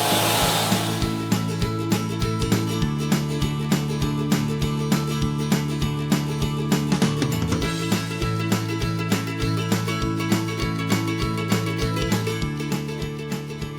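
A pressure washer blasts a wall at full power from about 30 centimetres away, a loud, continuous, close hiss and motor drone that runs steadily throughout with faint rhythmic pulsing.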